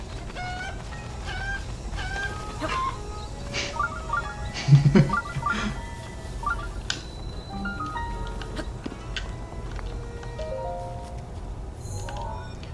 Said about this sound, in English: I love the chickens in this game.